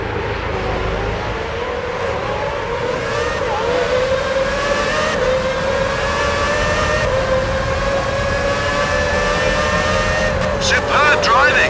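Formula 1 cars racing into a corner in the F1 06 game, high rising engine whines layered and sustained at close range, with a commentator's voice running over them.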